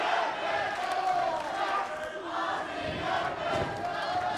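A pro wrestling crowd at a Pro Wrestling Australia event cheers and shouts in a continuous, swelling roar, with occasional louder surges.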